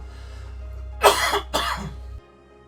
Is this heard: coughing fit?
yes